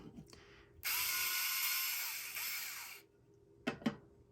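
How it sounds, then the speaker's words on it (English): An electric screwdriver backs short screws out of a case top plate with one steady whirring run of about two seconds, close and clear, followed by two brief taps. "We're gonna do that by unscrewing these two. And the screws are very short."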